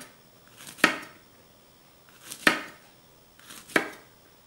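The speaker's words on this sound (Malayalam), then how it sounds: "എന്നിട്ട് അതിനെ ചെറുതായിട്ട് ഉണ്ടോ ഇങ്ങനെ അരിഞ്ഞെടുക്കുക." Three separate knife chops through okra on a cutting board for a Kerala okra stir fry, sharp close thuds spaced about a second and a half apart over a quiet background.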